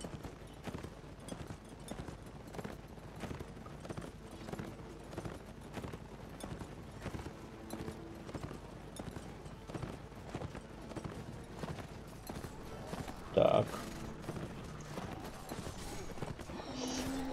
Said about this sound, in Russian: У нас очень защищенная лошадь, но при этом она такая медленная.